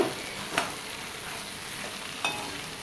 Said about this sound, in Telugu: ఒక టూ మినిట్స్ వరకు ఇలా ఫ్రై చేసుకుంటే